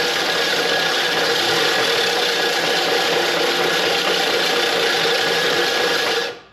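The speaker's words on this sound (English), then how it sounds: "as soon as I get it going and start grinding it" A 1/2-inch power drill back lapping a McLane reel mower roars loud and steady, with continuous grinding and rattling that holds evenly for about six seconds before cutting off abruptly.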